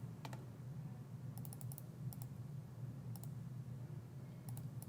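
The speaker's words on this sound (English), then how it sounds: "let's go ahead and type that in the old calculator here" Short bursts of plastic button presses on a calculator, a few quick clicks spaced irregularly over a steady low hum, close and fairly quiet, no talking.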